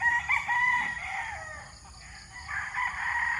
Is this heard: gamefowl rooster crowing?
yes